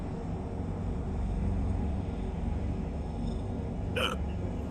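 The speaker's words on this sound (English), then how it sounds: "Hiccup." A single short hiccup, loud and close, pops out about four seconds in over a steady low rumble of ship engine and game ambience during a Star Citizen mining session aboard a Prospector ship.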